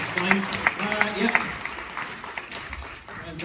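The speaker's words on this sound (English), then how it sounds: "Round of applause" Theatre audience applause at an Edinburgh Fringe staging of Earnest, a short round of clapping mixed under ongoing speech.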